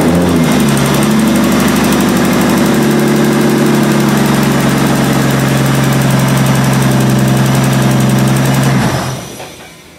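Car engine running on new injector data in cold conditions, a loud steady idle with a rough, slightly uneven rumble that continues throughout before fading out at the end.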